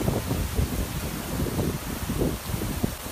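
Typhoon Hato wind blasts across the Star Ferry Pier in Hong Kong, a dense, loud roar with heavy low-end buffeting gusts pulsing unevenly and continuously, no one speaking.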